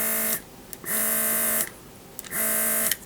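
A cordless rechargeable airbrush for model making switched on and off three times, each run a steady, close electric buzz with a tonal hum, separated by short gaps of near silence.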